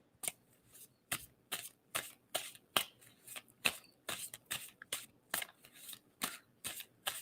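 Tarot cards being shuffled in a steady run of about fourteen crisp riffling bursts, close and fairly quiet, with no voices over them.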